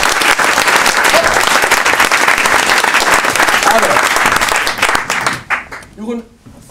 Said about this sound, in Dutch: dames en heren, mag ik een applaus voor Jeroen Thijssen.